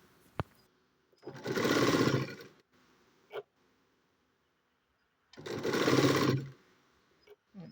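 A sewing machine stitches a school uniform dress in two loud, steady runs of motor whir and needle clatter, each lasting about a second and a half, separated by a pause with a few faint clicks and taps.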